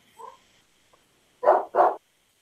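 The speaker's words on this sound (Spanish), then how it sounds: "No, es que no se calla este perrito." A small dog barks twice in quick succession, loud and close, after a brief softer yelp, in an otherwise quiet indoor room.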